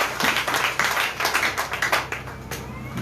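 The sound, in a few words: congregation clapping to acclaim the Lord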